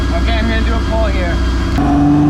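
A twin-engine Suicide MX3 making a pump-fuel pull on a dyno, with a loud, steady engine drone whose pitch wavers before settling into a sustained, higher tone, and voices heard over it.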